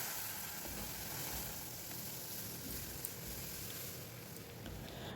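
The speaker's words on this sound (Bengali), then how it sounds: "একটু হালকা করে ভেজে নিয়ে এবার যে ডালটা বয়েল হচ্ছিল সেই ডালটা এর ভিতরে দিয়ে দেবো।" Boiled dal poured into hot oil with lightly fried ginger, giving a soft, steady sizzling hiss that stays low and even throughout, with no voices.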